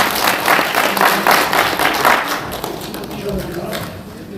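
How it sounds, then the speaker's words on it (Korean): An audience at a special lecture and annual general meeting gives warm applause, clapping loudly for a couple of seconds before it thins out and fades into quieter room sound. "다시 한번 뜨거운 박수 부탁드립니다."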